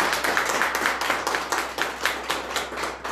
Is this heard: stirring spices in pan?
no